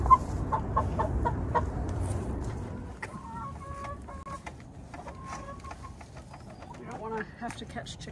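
Chickens cluck and murmur close by in short, scattered calls over a low, rumbling background.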